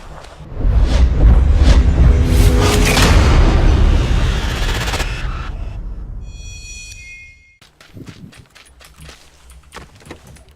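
A loud, close grenade blast in PUBG on the Erangel map, a heavy booming roar that swells quickly, holds for several seconds and slowly decays, followed by faint scattered footsteps and small impacts.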